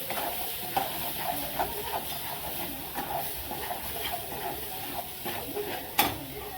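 Mutton frying in oil with ground masala until the oil separates, a continuous close sizzle with repeated stirring scrapes and occasional spatters at a moderate level.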